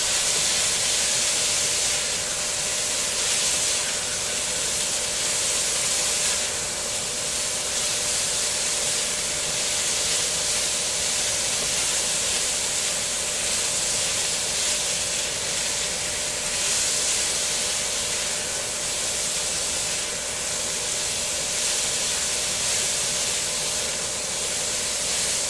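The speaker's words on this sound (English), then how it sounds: "The sound is so much better with the wok than the frying pan," Stir-fry sizzling in a new wok during live cooking: a steady, loud, unbroken hiss that lasts throughout with no talking.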